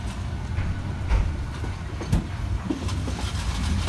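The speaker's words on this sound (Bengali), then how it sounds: "এই তো দেখতে পাচ্ছি ট্রেন," Paharika Express train rumbling past amid tea gardens on the Kulaura–Sylhet line, a steady loud roar with faint rail clatter throughout, no voices.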